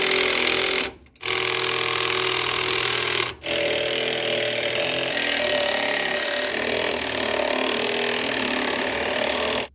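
Power-tool whirring while tightening bolts on a 2024 Ford F-150 lower control arm during a lowering kit install: a loud, sustained mechanical whir with two brief pauses, no talk.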